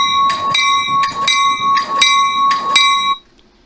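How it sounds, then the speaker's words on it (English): A railway track switch warning bell rings in a rapid, steady series of bright metallic strikes, loud and close, with no talk over it, then stops abruptly and leaves near silence. "when that same button is pressed, the blinkers would blink, along with a bell going off, until it has gotten through the switch"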